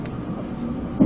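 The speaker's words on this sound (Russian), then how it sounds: "Мы в метро едем." A Moscow metro train moving between Kievskaya and Kuntsevskaya, heard from inside the last car as a steady low rumble with a brief louder clunk near the end.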